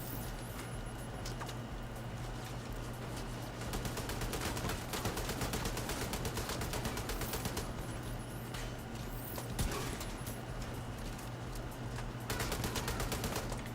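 Heavy gunner enemy firing a machine gun in The Division 2, long rapid bursts of loud automatic fire continuing almost without pause, with brief breaks between volleys.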